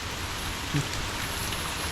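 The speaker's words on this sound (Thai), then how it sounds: "ฝนมันยังตกมาอยู่" Steady rain pours down during a heavy rainstorm, a dense continuous hiss with no talk over it and one brief dull knock partway through.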